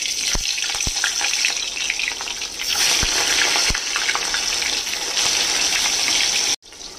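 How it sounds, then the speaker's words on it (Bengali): Pointed gourd (potol) pieces lightly frying in about four tablespoons of mustard oil in a wok, a steady loud hiss and sizzle with a few sharp pops, cutting off abruptly near the end. "হালকা করে পটলগুলোকে ভেজে নেব"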